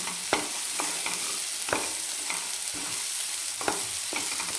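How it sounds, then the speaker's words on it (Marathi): Green masala paste with eggplant and potato pieces sautéing in hot oil, a steady close sizzle broken by a few sharp spoon scrapes and taps against the pan while being stirred. "1-2 मिनिट छान तेलामध्ये परतून घ्यायचे"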